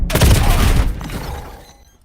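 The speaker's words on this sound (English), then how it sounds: "already the gunfire is gonna be there" Burst of rapid gunfire in a Call of Duty: Black Ops 7 multiplayer match, loud and dense at first, then tapering off into a fading echo over two seconds.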